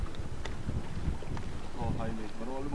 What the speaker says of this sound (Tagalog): Sarap ng hangin eh.